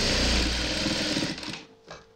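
A sewing machine stitches a cotton housecoat in a loud, close, continuous whir that runs for over a second and then stops, leaving a faint mechanical clunk afterward.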